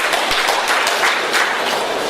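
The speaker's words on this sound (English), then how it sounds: "yes, you can please clap for him because he does deserve that applause." An audience at a tech conference gives loud, continuous applause for a committee member, a dense, even roar of many hands clapping.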